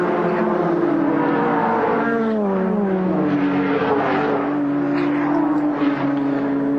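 Shell Holden Commodore and Sierra touring cars climb the mountain at Bathurst in 1991, their engines droning loudly with shifting pitch as they hold station close together, with no voices.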